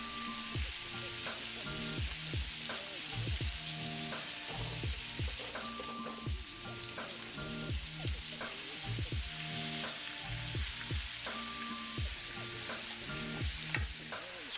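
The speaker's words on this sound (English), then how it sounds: "So once that butter melts, I'm going to start basting my pork chops." Pork loin chops searing in a pan with melting butter, sage, thyme and rosemary, a continuous hissing sizzle with spoon or pan scraping at a steady rhythm, close and quiet, no voices.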